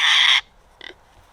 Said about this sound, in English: we got us some new little baby pigs